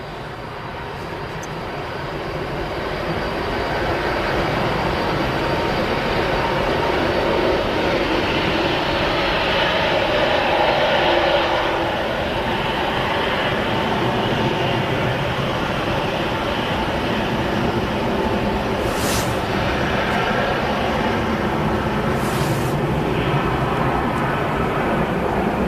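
A TUI Fly airliner departs Manchester Airport on an evening. Its loud, broadband jet roar swells over the first few seconds and then holds steady and close, with a brief fluctuation midway, and there is no talk.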